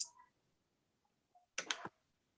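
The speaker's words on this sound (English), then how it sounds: "I'm now clicking send. I'm now clicking refresh." Computer mouse clicks for sending and refreshing, heard as a quick burst of sharp clicks close to the microphone after a short faint tick, with no talking.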